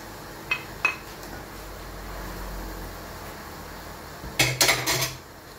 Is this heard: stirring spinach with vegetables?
yes